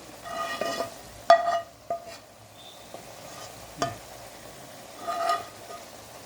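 Fish pieces simmer in curry gravy while being gently turned in the pan, a quiet bubbling sizzle with a few sharp scrapes and taps of the spoon at intervals.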